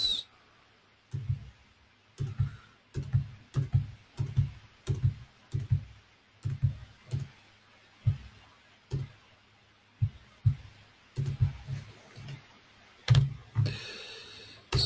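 Patient details are typed on a computer keyboard, heard as bursts of soft key taps in uneven runs with short pauses, close and fairly quiet, alone with no talk.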